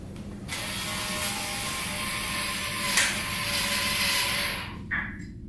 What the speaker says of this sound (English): we want to screw it in with the screwdriver